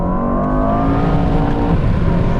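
A 2024 Mercedes-AMG S63 E Performance accelerating hard in Sport Plus mode, its engine note climbing steadily in pitch with rising harmonics, loud and continuous from inside the car.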